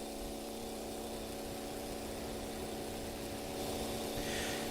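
A small block 4-cylinder engine in the building game Gear Blocks holds a steady, buzzy harmonic drone, revving slightly higher toward the end, with no talking.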